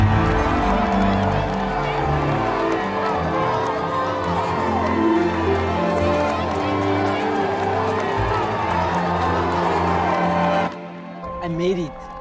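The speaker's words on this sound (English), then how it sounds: "there's the crowd cheering you on" A crowd cheers and roars for the winner of the Comrades ultra-marathon at the finish, a steady wash of shouting and clapping under a voice talking over it, dropping away near the end.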